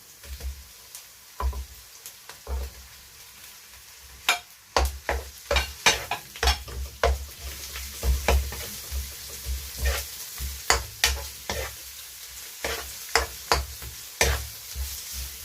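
Ground meat sizzles steadily in a hot pan for pancit Malabon, with a spatula scraping and stirring in an irregular rhythm of clicks and knocks against the pan, close and fairly loud.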